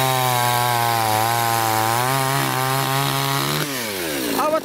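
A chainsaw cuts through wood with a loud, close, steady buzzing whine that sags in pitch as the chain bites deeper, then drops sharply near the end as the cut finishes.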